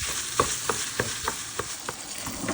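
Meat frying in its own rendered grease in a pan while a utensil stirs it in quick, evenly spaced scrapes and knocks, over a soft, steady sizzle heard up close.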